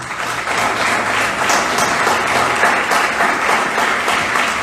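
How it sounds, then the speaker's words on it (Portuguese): A church congregation applauds loudly during a worship service, producing a dense, continuous wash of clapping that holds steady for several seconds without voices over it. "aplauda bem forte aquele que vive"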